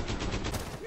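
Rapid gunfire bursts from the Rainbow Six Siege video game, a dense, loud run of shots filling most of the moment, close and continuous with a faint voice underneath.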